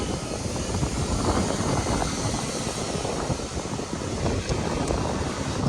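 Steady, heavy wind roars and buffets the microphone without a break, a dense rumble filling the whole stretch.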